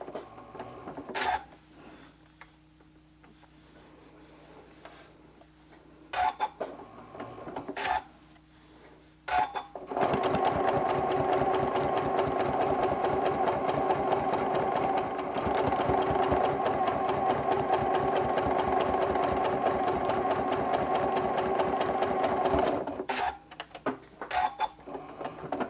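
A sewing machine stitches a quilt-as-you-go mug rug of crumb fabric with decorative stitches, a long, loud, continuous run of rapid stitching framed by scattered clicks and handling sounds before and after.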